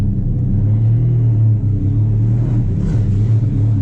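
A 2000 Lamborghini Diablo GT engine while driving, a loud, low steady rumble with a strong droning tone from inside the car, alone without talk.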